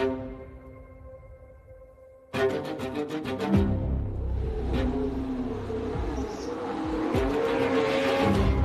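Formula 1 race car at Silverstone circuit screaming past up close, a sudden loud high-pitched engine roar that bursts in after quiet tonal hum, with gear changes and a second rising surge near the end.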